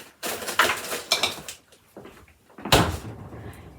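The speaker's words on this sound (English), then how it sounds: "we'll put that back in the freezer" A freezer door closes in a home kitchen after ginger is put back inside, a few soft thuds and rattles of handling followed by one sharper shut, close by and with no talk.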